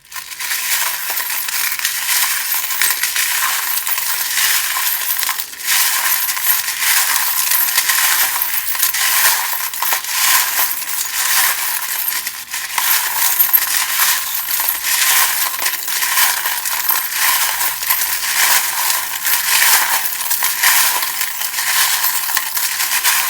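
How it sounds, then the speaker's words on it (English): Continuous metallic clinking and jingling, dense and fairly loud, like a handful of small metal charms being shuffled together without pause. "if you don't like the sound of the charms, they can be very loud"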